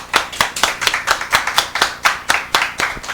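Steady hand clapping, about a dozen sharp claps in an even rhythm, close and fairly loud with no talking.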